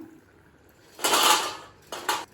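Crisp crunching bursts of brittle butter murukku being broken or bitten, two short clusters close up over a quiet background.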